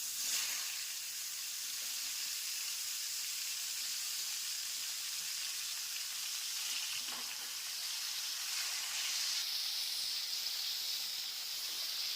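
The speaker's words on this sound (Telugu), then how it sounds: "ఒక యాభై గ్రాముల జీడిపప్పు తీసుకొని ఫ్రై చేసుకోవాలి" Fifty grams of cashew nuts frying in a pan for a mushroom cashew curry, giving a steady, close sizzle and hiss that runs unbroken for the whole stretch with no talking.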